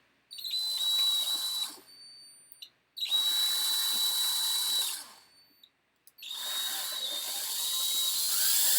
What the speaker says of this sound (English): It's drilling in the middle.